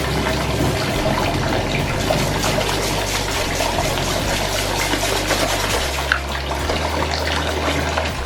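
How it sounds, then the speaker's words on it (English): Bath water gushes from a tap into a tub, a loud, continuous, close rushing splash that holds steady throughout. "So I'm running my water right now"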